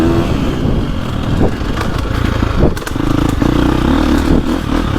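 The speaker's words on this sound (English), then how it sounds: "this engine, this is a beast. It just has some bark down low." A 2025 KTM 350 XCF dirt bike engine barks and revs close by, surging in several bursts with clattering and scraping off-road riding noise between them.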